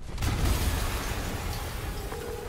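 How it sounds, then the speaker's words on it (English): A low, heavy rumble from an explosion in the video game Marvel's Spider-Man swells early and then rolls on as a loud, sustained roar with no speech. "an explosion just..."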